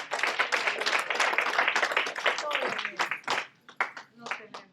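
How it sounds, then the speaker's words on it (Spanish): A church congregation claps for Christ, sharp, close handclaps in a quick uneven rhythm, loud at first and then thinning into scattered separate claps toward the end. "Denle un aplauso a Cristo."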